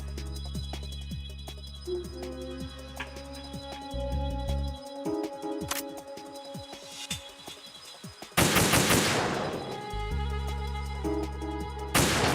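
Sniper support gunfire in the Metal Gear Solid 2 video game, with sharp shots and rapid bursts cracking over a steady game music bed, plus one loud, dense burst of fire.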